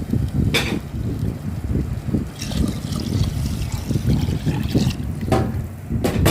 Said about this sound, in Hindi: अब शामिल करेंगे इसमें इतना पानी कि ये अच्छे से गल जाए